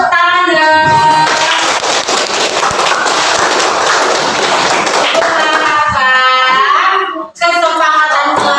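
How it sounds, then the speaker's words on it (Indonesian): A class of children clapping together in a classroom, a loud, dense burst of applause lasting several seconds, with children's voices and cheering mixed in and a brief pause before more clapping. "kasih tepuk tangan dong"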